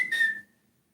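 A single short, high whistle from a person, bright and clear, fading out within half a second into silence.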